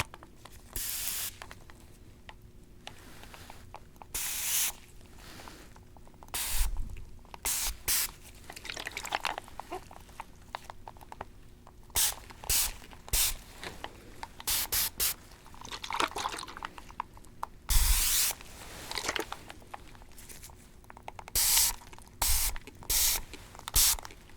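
Repeated short hissing bursts of a spray mist, irregularly spaced, close by, with quiet pauses between them.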